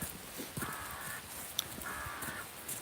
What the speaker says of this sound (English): The crows are crowing.